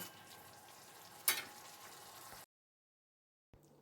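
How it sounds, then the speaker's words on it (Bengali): Spices with red chili powder fry in a pan with a faint, soft sizzle and one sharp clack of a utensil midway. The sound then cuts to silence before a brief return. "এবার সব মশলাগুলো একসঙ্গে ভালো করে ভেজে নেব"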